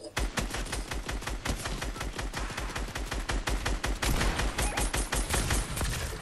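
Rapid video-game gunfire blasts at ghosts, loud sharp shots in fast bursts and volleys, nearly continuous throughout and close-up.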